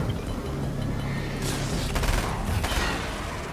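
Combat shotgun gunfire in the video game Alan Wake's American Nightmare, a few sharp blasts around the middle of a dense, noisy game soundscape with no talk.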